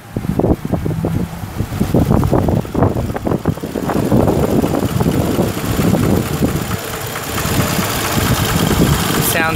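Steady, rumbling idle of a 2003 Toyota Camry engine, continuous and fairly loud, with some wind buffeting on the microphone.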